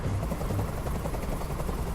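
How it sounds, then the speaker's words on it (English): Helicopter in the video game Detroit: Become Human, a loud, steady rotor drone hovering close by with no talk over it. "Tell that helicopter to get out of here."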